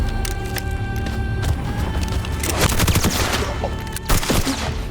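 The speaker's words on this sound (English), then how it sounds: "Over 250 pristine gun Foley sound design elements" Gun foley sound effects, a dense, loud stream of gunfire with rapid bursts, clicks and metallic handling noises that crowd together and peak near the end, with no talk.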